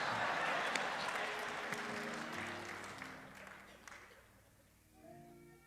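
A Baptist church congregation at Ebenezer Baptist Church applauding, loud crowd clapping that gradually fades out over several seconds, with a voice starting to speak near the end.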